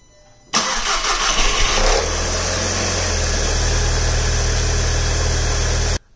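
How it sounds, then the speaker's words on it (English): A Volkswagen GTI MK5 with an FSI engine and an Integrated Engineering intake cold-starts: a brief cranking burst, then the engine catches and settles into a loud, steady, close idle with a low drone until it is cut off. "here goes the cold start"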